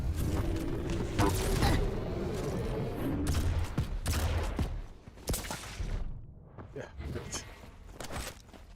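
Railgun shots and weapon fire in a Quake Champions arena duel: sharp, repeated cracks with mechanical clanks and movement sounds, fairly close and dense, and a voice may be talking over the action.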